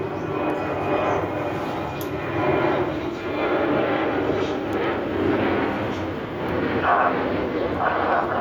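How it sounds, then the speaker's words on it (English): Steady broad roar of an airplane passing overhead, a continuous rumbling wash that swells slightly, moderately loud, with no clear talk. "here's another plane sound"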